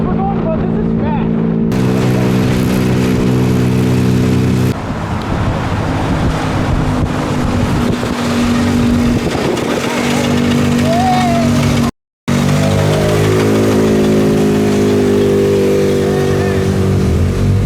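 A car powered by a moped engine drives at nearly 20 mph, its small engine buzzing loudly and steadily with rising and falling pitch, heavy wind buffeting and excited voices talking over it.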